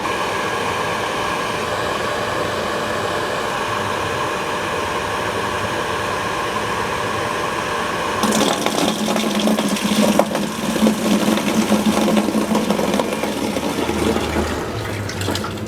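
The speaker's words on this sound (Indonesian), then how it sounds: "sekarang saya akan nyalakan pompa" An electric household water pump that often needs priming switches on partway through, its motor hum and rushing water rising over a steady background whir and continuing loud to the end.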